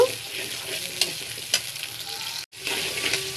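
Onions frying with salt in a hot pan, a steady loud sizzle with occasional stirring scrapes and a brief break near the end.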